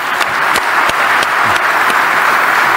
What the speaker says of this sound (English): And so a big applause to Saudi women.